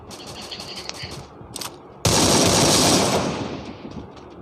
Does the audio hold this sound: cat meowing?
no